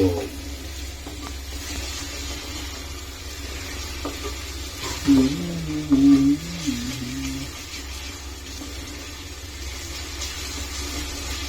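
Ginger garlic paste fries in a hot pan with tomato and chillies for a traditional fish curry, giving a steady close sizzle with a brief stirring scrape partway through.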